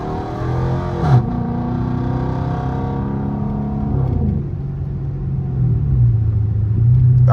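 Close interior engine sound of a Chrysler 300C with a Hemi V8 under hard acceleration, a steady rumble whose pitch climbs through several rising sweeps as the car pulls through gears.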